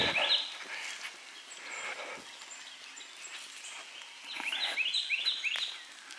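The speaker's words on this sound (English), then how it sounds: "a lot of birds out here" Many birds chirp and sing outdoors on a hillside plantation resort in Virginia, with bright scattered calls clustering at the start and again near the end.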